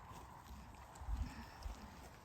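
Horses at a sale yard walking, with faint, distant hoof clip-clops, a couple of heavier steps standing out over a low background hum.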